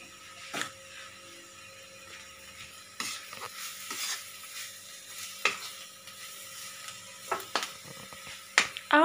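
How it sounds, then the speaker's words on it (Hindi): Spices with a half spoon of dry mango powder get stirred in a frying pan for cauliflower sabzi. Sparse clicks and scrapes of the spoon against the metal ring out over a faint background sizzle, with a quick rattle near the end. "अब हमें इसे अच्छे से मिक्स करना है।"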